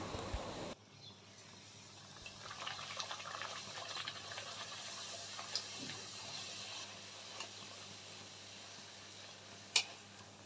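Fluffy luchi, a puffed flatbread, frying in hot oil, giving a soft, steady sizzle throughout with a few small clicks and pops, quiet and close.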